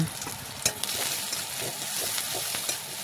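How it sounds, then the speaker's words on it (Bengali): Onion fries in oil in a pan, producing a continuous bright sizzle, with stirring scrapes and a few sharper clacks of a utensil against the pan near the start. "এদিকে দেখে নেব পেঁয়াজটা ভাজা হয়েছে কি না।"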